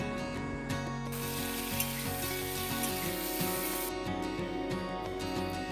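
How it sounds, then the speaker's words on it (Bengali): Brinjal pieces frying in hot oil in a kadai, with a steady dense sizzle and crackle that holds loud and even throughout, over a faint low hum in the background. "এবার কড়াইতে দিয়ে দেব বেগুন। বেগুনটাকে দিয়ে ভালো করে ভেজে নেব।"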